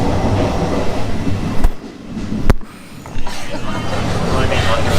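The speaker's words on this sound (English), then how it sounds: "Deborah, how are you feeling on this train ride so far?" Passenger train ride in Italy, with a steady rumbling rattle of wheels on track and two sharp clicks, heard from inside the carriage while people talk nearby.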